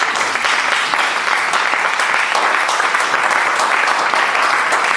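Church congregation applauding loudly and steadily, a dense wash of clapping from many hands that holds at an even level throughout with no voices breaking through.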